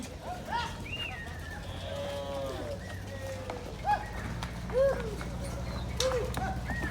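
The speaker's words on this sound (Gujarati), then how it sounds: "આપણે જે ગૌશાળાની ગાયો છે એ ચરવા માટે જાય છે" Several cattle from a cow shelter moo at a moderate distance as they head out to graze, with short calls scattered across a steady outdoor background and some faint talking.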